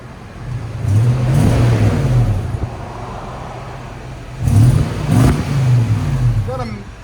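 A 2007 Lexus GX 470 with its 4.7L V8 revs through a Borla ProXS exhaust, two deep swelling rev bursts rising and falling close by, a steady low idle between them.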